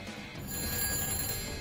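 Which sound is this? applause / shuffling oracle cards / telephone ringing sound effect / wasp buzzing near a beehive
telephone ringing sound effect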